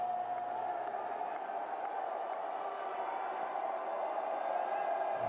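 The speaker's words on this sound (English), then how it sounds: "Borges waiting for the crowd to settle." Crowd murmur at a US Open tennis match before match point, a steady, moderately distant hum of many voices with scattered calls, fairly even and unbroken.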